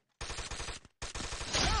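Gunshots in the video game Counter-Strike: two rapid bursts of close, loud automatic fire separated by a short pause.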